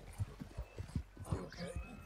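An Andalusian horse in Red Dead Redemption 2 gives a soft run of hoof clip-clops followed by a faint whinny, quiet and close without speech.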